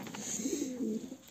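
A pigeon coos softly and low, one short rolling call close by against faint background hiss.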